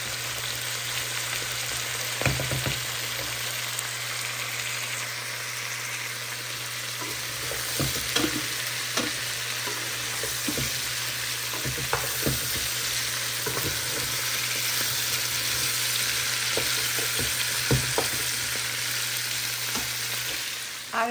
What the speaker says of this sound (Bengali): তো আমি সবগুলা মশলা একটু একটু করে দিয়ে দিচ্ছি। ব্যাস, এখন নেড়ে চেড়ে আমি ঢাকনা দিয়ে রেখে দিব।